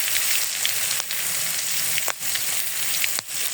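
Cumin, onion, garlic paste, turmeric, salt and green chillies fry in a pan, giving a loud, steady close-up sizzle with a few brief scraping stirs, with no one speaking.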